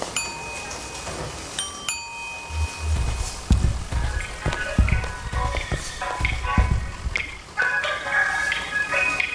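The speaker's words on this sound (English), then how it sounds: "Oh goody, elevator music." Elevator music in Kentucky Route Zero, soft tonal chimes and sustained melodic notes under thumping low footfall-like knocks and scattered ambient sounds, rising and falling irregularly.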